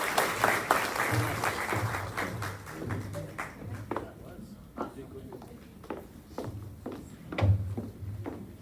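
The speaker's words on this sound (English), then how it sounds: "How about another round of applause for Dr." Applause from an audience at an athletics Hall of Fame and Hall of Honor induction ceremony, strong at first then thinning into scattered individual claps, with a voice speaking over it.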